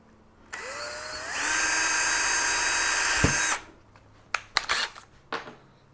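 A power drill bores a larger hole during a tool build, its motor spinning up with a rising whine, holding a loud steady grind for a couple of seconds and then stopping, followed by scattered clicks and knocks of handling.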